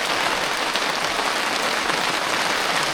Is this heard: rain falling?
yes